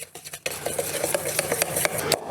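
A spoon briskly stirs brown sugar and Worcestershire sauce in a bowl for a bologna rub, giving quick rhythmic scraping and clinking strokes close up after a short quieter start, with no talking.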